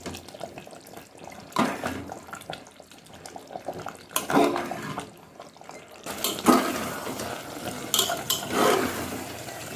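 Warm water splashes and pours into mutton curry in several bursts, pausing between them, close by with a liquid gurgle.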